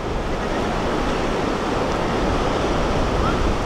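Strong ocean waves crash at Sabangan Beach in Agno, Pangasinan, a loud continuous broadband roar of surf that stays steady and close throughout.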